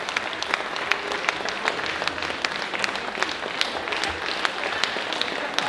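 Steady applause from a summer festival audience in Gützkow, with many hands clapping at an even level throughout and no voices standing out.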